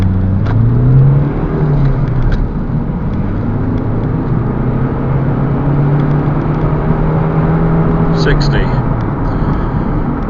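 A 2010 Lexus IS 2.2 diesel pulling away in a 0 to 60 run, heard from inside the cabin as a steady droning engine note that climbs and holds through the gears.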